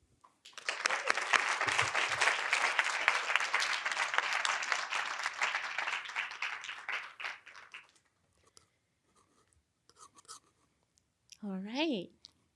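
Audience applause welcoming a speaker to the stage at a King Talks event, a dense sustained clapping that swells for several seconds and then fades, followed by a brief spoken voice.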